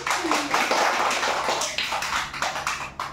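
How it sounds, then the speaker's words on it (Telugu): A small group claps at a children's summer balloon game, giving a short run of quick, uneven hand claps close by with a little chatter mixed in. "క్లాప్స్"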